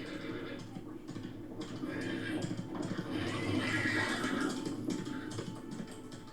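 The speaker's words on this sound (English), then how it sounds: "Poor horse." A horse neighs in a drama scene, a faint whinny set back under a murky background of ambient sound and low voices.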